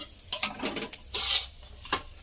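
Panch phoron spices hit hot oil for tempering while cooking a thor ghonto with small prawns, crackling in a few sharp close bursts and a brief sizzling flare around the middle.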